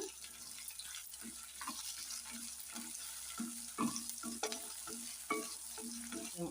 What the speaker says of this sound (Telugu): ఇప్పుడు నేను కడిగి అది వాష్ చేసి పక్కన పెట్టుకున్న మీల్ మేకర్ అయితే వేసేసుకుంటున్నా